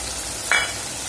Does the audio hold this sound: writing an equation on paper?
no